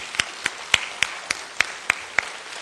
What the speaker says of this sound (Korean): 우리 하나님께 박수 한번 하겠습니다